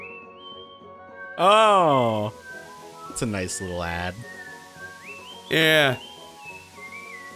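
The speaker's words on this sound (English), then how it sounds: "he takes a shower and he whistles the Mario theme" Mario whistles the Mario theme in the shower in Super Mario RPG: bright, clear whistled melody phrases in short bursts with gaps, while people chat quietly over the game music.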